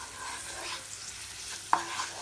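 Garlic and ginger fry in a pot with a soft, steady sizzle, broken once by a brief clink of stirring near the end.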